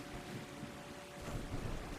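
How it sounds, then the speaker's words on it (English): Rain and rumbling thunder in the video game Ark Survival Ascended: a steady wash of rainfall with low, rolling rumbles, heard alone and fairly faint. "I absolutely hate the rain in Ark."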